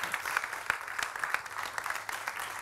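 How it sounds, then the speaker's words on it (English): Audience at a science communication competition semi-final applauding the judges, a moderate wash of clapping from a sizable crowd, fairly quiet and steady with a few sharper individual claps. "can we give them, please, a huge burst of applause for the triple whammy that is our judges?"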